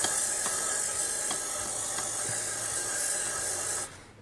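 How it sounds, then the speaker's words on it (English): Steady aerosol cleaner spray hisses continuously onto the mass airflow sensor of a BMW E60, close and loud for about four seconds before cutting off abruptly. "Just spray it everywhere and hope to get it."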